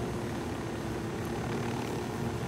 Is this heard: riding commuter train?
no